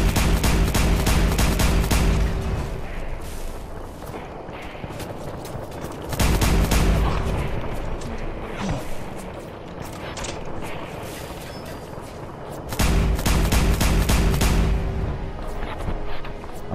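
Rapid automatic gunfire from a modded weapon in Fallout 4 comes in three loud sustained bursts, each followed by quieter mechanical clatter and echoing tails between volleys.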